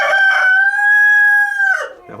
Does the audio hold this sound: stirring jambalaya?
no